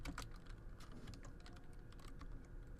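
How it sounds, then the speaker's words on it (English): Rapid typing on a computer keyboard while entering planet names and radius values into an Excel spreadsheet, a steady close-up patter of key clicks filling the whole stretch with no talk. "I just typed that in."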